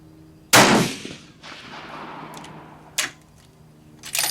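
A Steyr rifle fires once at an outdoor range, a sharp loud crack with a ringing decay, followed by two fainter, shorter reports later on.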